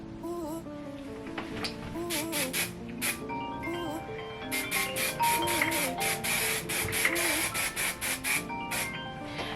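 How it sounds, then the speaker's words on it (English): TRESemmé Keratin Smooth Weightless Anti-Frizz Finishing Spray misted onto curled hair in a series of short, close hissing bursts, several in quick succession, over steady background music. "So I go in with the TRESemmé Keratin Smooth Weightless Anti-Frizz Finishing Spray"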